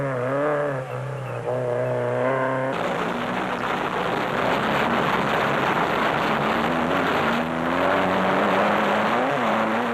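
Rally race vehicles, including a Castrol Toyota Hilux in off-road racing, roar past loudly with a sustained engine drone that shifts abruptly as a fast-closing rival overtakes, the revving continuing steadily to the end.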